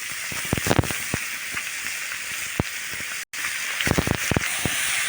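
Sliced radish tipped into a hot pan of oil with cumin and fried rohu fish, giving a steady close sizzling hiss scattered with sharp crackles and pops, briefly cut off midway before carrying on.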